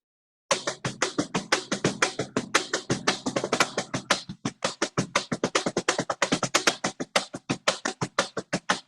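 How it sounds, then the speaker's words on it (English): Rapid, crisp percussive taps knock out a syncopated rhythmic pattern on the wooden body of a harp, continuing steadily and close up without any talking. "this is actually played on the body of a harp"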